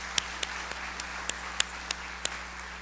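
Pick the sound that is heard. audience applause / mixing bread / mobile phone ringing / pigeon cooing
audience applause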